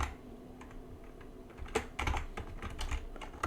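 Computer keyboard typing at a desk, close, with sparse key taps at first that quicken into a brisk burst of clicking and clacking, no voices.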